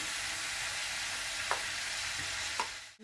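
Chopped tomato frying with ginger-garlic paste in a pan for pav bhaji, a steady soft sizzle with a couple of sharp utensil knocks against the pan near the end.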